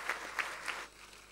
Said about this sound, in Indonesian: Ya, tepuk tangan bagi Tuhan.